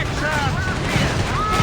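Machine gun fire and battle noise in the real-time strategy game Company of Heroes 3, a dense, continuous rumble of gunfire and explosions with scattered whistling tones, loud throughout and partly under a voice.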